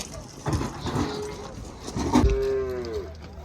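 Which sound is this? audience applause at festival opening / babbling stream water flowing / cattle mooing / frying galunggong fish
cattle mooing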